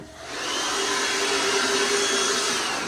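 A small handheld Worx blower runs steadily, blowing dust out of a workshop; a loud continuous whirring rush that starts and holds at full strength with no talking.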